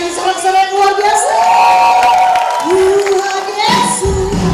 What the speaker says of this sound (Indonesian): berikan sorak-sorai yang luar biasa